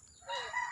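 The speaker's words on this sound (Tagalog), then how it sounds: "Dagan kay mga manok diri ay" A rooster crows once, close and fairly loud, with its rising and held call cutting over a faint low rumble in the background.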